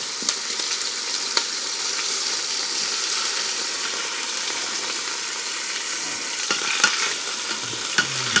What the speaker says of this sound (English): Doesn't take long to brown stuff, guys. We're just browning.